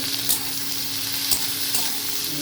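Small okra fries in a pan with turmeric, red chili powder and cumin powder, giving a steady close sizzle broken by a few soft stirring scrapes, with no talking.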